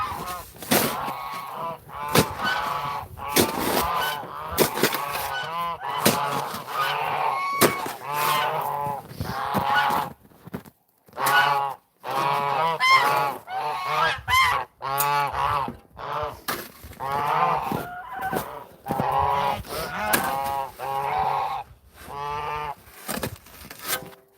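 Geese honk loudly and continuously at close range, a dense overlapping chorus of harsh, repeated calls with brief pauses, in an outdoor setting with live birds.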